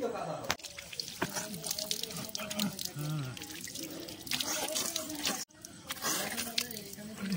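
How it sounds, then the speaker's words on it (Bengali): Water splashes and drips from a tap as someone washes their face at a sink, a busy wet sound running throughout with voices talking in the background. "মুখটা আসি, মুখটা ধুয়ে আসি, মুখ ধুয়ে নি।"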